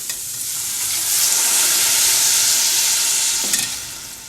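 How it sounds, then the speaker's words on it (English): Dry white wine hits cooked vegetables in a hot pan for lasagna bolognese, setting off a loud, sustained sizzle and steamy hiss that rises and stays bright throughout. "I'm going to add 1 cup of white wine, dry white wine."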